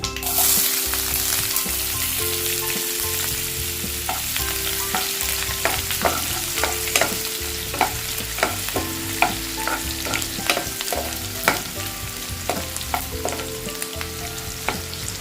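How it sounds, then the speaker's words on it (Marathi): Mustard seeds and a chopped onion fry in hot oil in a pan for a Marathi tondli bhaji, giving a continuous close sizzle with crackling pops, clattering spoon stirs and a low steady hum running underneath. "तेल गरम झालं आता राई घालते एक कांदा कापून घेतलाय तो घालते"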